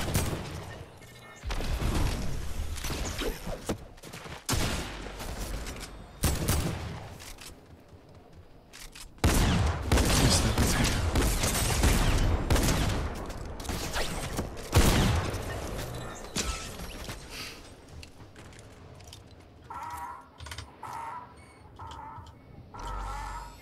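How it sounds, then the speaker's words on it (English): Enemy gunfire aimed at the player in a shooter game rings out as loud bursts of shots in irregular clusters, with quieter gaps and mechanical clicks between the volleys. "Guys are shooting at me."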